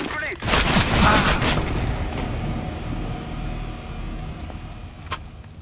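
Grenade blast in Counter-Strike: Global Offensive during a tournament match, a loud booming burst with a long rumbling decay, followed by quieter game noise and a sharp click near the end.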